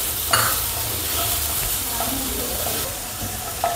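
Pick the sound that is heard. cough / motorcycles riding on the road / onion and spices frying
onion and spices frying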